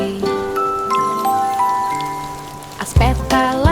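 Gentle rain falls on a surface beneath a sung Portuguese children's song, a soft steady patter under held musical notes, with a louder burst near the end.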